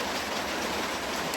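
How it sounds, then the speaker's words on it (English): Heavy rain pouring down in sheets on the Appalachian Trail, a dense, steady hiss of falling water with no voices. "the rain has came like down in sheets, it was just raining"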